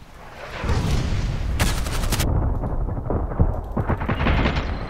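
Rapid bursts of AN-94 assault rifle fire in the shooter game Contract Wars, loud and close, with dense automatic volleys and short pauses between them.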